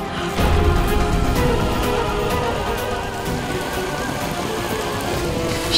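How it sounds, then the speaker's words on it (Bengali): Steady rain pours throughout a TV drama scene, a dense, even hiss of falling water with drops patterning onto surfaces, loud and continuous for several seconds, with no speech over it. "এমন অকালে এরকম বৃষ্টি আগে কখনো দেখিনি না"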